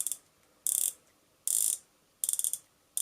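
Three short bursts of crisp, rapid clicking from a Squale 1545GG.HTG dive watch bezel ratcheting as it is turned, each lasting about a quarter second with quiet pauses between.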